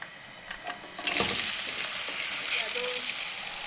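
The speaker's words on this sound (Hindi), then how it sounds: "अब इसमें हम कटे हुए प्याज डाल देंगे।" Chopped onions drop into hot cooking oil in a kadai and sizzle steadily, a loud continuous frying hiss that swells after the first second and holds, with faint clinks before it.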